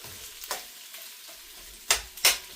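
Onions soften in a pan over medium heat for a Mexican bake, with a faint low sizzle broken by a few sharp scraping stirs, two of them louder near the end.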